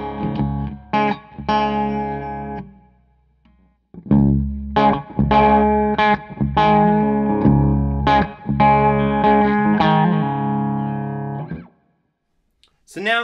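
Distorted baritone guitar on the bridge pickup plays chords and riffs with pauses between phrases, bright and biting with a touch of reverb.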